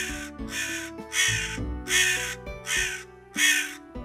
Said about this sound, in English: the crows are a family, father, mother, and son. They are quarreling.